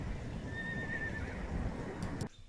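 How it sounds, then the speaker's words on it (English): Wild horses roaming free in the desert give a long, clear neigh that rises and wavers, with hoof clip-clops and outdoor rumble underneath; a couple of short sharp knocks follow before it cuts to near silence. "these wild horses roaming free in the desert"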